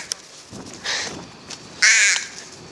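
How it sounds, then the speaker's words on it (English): Harsh chattering calls of magpies around a school building, two loud bursts and a few fainter ones, heard alone without talk. "Magpies."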